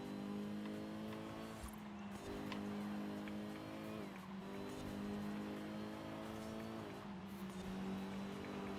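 Race car engine with tire squeal in the video game Forza Horizon 5, a steady, droning engine note that holds throughout, with small dips and shifts in pitch as the car works through corners.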